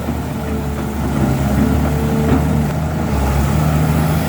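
Kobelco SK200-6 excavator engine idling with a steady, low, throbbing drone and a constant mechanical hum, close and even throughout.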